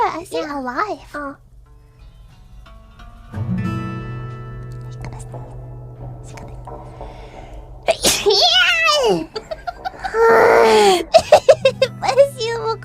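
A child sneezes clearly amid playful child chatter, giggles and whispers, with a loud burst near the end.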